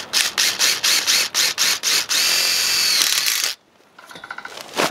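A power drill drives a tech screw held on a magnetic tip for DIY roll-up ventilation sides: a quick run of short, loud revving bursts, then a sustained high whine that cuts off abruptly, leaving fainter clicks and rattles.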